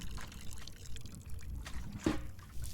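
A plant is watered in the video game Botany Manor, making a soft, fairly faint trickling pour with a brief splashy burst near the end.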